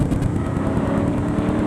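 Race car engines roar loudly and steadily on a racetrack at a 2006 race day, with a continuous close, throaty drone and no voices.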